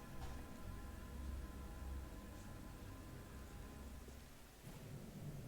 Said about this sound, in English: you hear that thunder? How spoopy indeed.